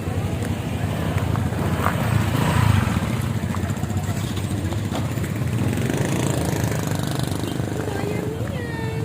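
A motorcycle engine runs steadily throughout with a low rumbling drone, heard close as if from the rider's seat, while people talk over it.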